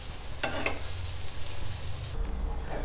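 An egg omelette fries in a pan with a steady, close sizzle, broken by a brief scraping stir near the start, and the sound stays fairly soft throughout.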